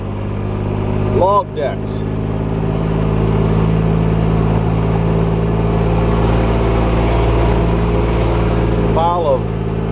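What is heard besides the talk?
rubber tire loader engine running at sawmill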